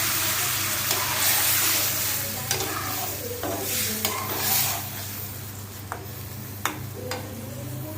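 Potatoes and bitter gourd cooking in a pan as water is added, a loud sizzle with repeated utensil scrapes and knocks while they are stirred.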